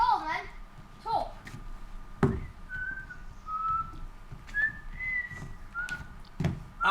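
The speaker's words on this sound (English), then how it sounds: "Then stop whistling." A person whistles a series of rising and falling notes, moderately close, with someone speaking briefly at the start and occasional knocks and thumps underneath.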